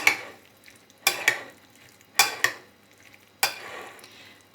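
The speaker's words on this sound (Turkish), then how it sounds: "Ve de şöyle hafiften bir alt üst karıştıralım." A spoon stirs a shepherd's salad dressed with salted lemon juice and oil in a bowl, four distinct clattering scrapes spaced about a second apart, close and clear.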